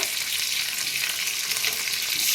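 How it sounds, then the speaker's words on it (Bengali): Whole spices and tomato frying in a pan for paneer butter masala, a loud, bright, continuous sizzle with no talking. "টমেটো দিয়ে দিচ্ছি টমেটোটা গোটা মশলাগুলো আমি ভালো করে একটু ভেজে নেব"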